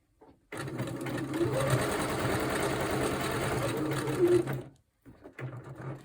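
A sewing machine stitches an inside pocket onto a slow-stitched fabric cover, running steadily and close for about four seconds before stopping, with quiet handling noise afterwards.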